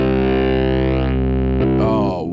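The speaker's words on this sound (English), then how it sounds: "That is some good distortion right there" Electric guitar run through heavy distortion in Logic Pro X, a loud sustained chord ringing with dense harmonics, then a quick string change and new notes near the end.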